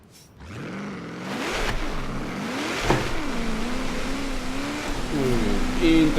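A Ford car in Forza Horizon 3 revs and accelerates during a drift, its engine note rising and falling in pitch, loud and continuous with a few sharp peaks, while a person talks over it.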